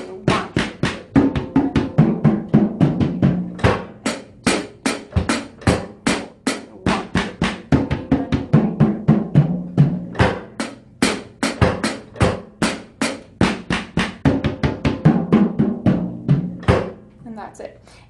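Drum kit playing a steady groove that moves into an eighth-note triplet fill, with dense, evenly spaced hits carrying a strong low-mid body throughout and a final sparser run of strokes near the end; no voices.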